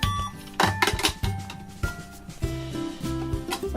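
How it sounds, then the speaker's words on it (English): A Just Like Home toy cash register playset's scanner beeps in short electronic tones over a looping jingle, with clicks and button presses mixed in, fairly loud and close. "this scanner, and it sounds like this."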